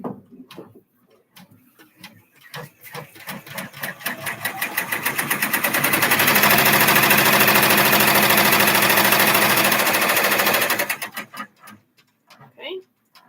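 An embroidery machine sews a tack down stitch on a see-through pouch, its needle ticking in rapid rhythm that speeds into a loud, dense buzzing run, then slows back to separate ticks before stopping.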